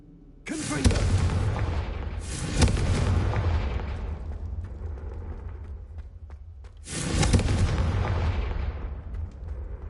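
Confringo fire spell blasts in Hogwarts Legacy: three loud booming explosions, each followed by a long rumbling fiery decay, the second and third spaced a few seconds apart. No talking is heard.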